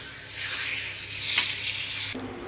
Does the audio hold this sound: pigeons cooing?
no